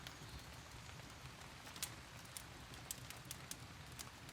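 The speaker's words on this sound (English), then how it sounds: "I'm going to go enjoy the rain" Steady, faint rain falls continuously, a soft broadband hiss with scattered light drip and tap accents, no voices over it.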